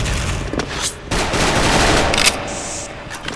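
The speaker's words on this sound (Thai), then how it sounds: "เฮ้ยมีคนยิงปืนผมด้านขวาเมื่อกี้ด้านล่างเนี่ย" Rapid gunfire from an AK74 in the online shooter Special Force: loud, dense bursts of automatic shots cracking in quick succession, with brief gaps between volleys and no talk.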